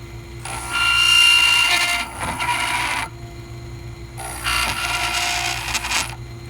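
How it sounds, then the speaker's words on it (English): A dental burr cuts a keyway in a denture reline, a high whirring grind in two bursts with a pause between, over a steady low motor hum. "you define each end of the keyway with the tip of the burr, as I'm doing it now"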